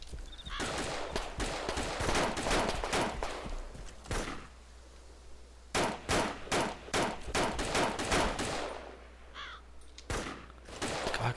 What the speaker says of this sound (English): I'm sure I can hear shots.